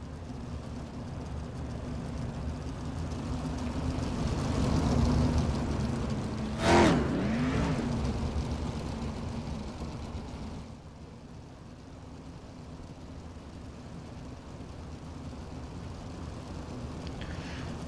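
Open-wheel race cars rolling off for a heat race at Cedar Lake, a continuous engine drone with one car whooshing past loud mid-way, then a fainter steady rumble.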